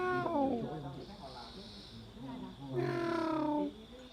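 A very small cat at a homestay gives two drawn-out meows, one at the start and one later, close and fairly clear, with a person's voice also present.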